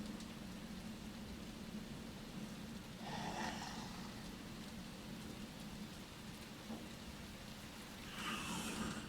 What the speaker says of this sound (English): if I walk through the rain though, is it gonna like splish splash and it's gonna hear me?